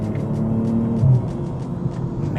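A JB4-tuned BMW M240i engine drones loud and close from inside the car while driving hard with the tail stepping out. A brief surge of revs rises midway over the steady rumble.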